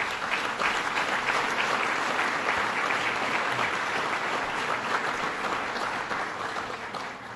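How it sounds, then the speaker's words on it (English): Sustained, loud applause from a large crowd at an awards event, dense and even throughout with no break, easing slightly only at the very end. "Let's give them a round of applause"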